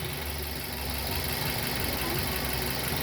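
A car engine idling during cooling system bleeding, a steady, even rumble with a faint knocking pulse, close and loud throughout, with no talk.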